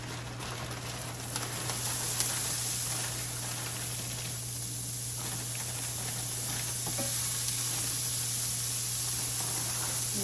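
Great Value pepper and onion blend sizzles steadily in a hot pan, a continuous crackling hiss with occasional stirring scrapes over a low constant hum.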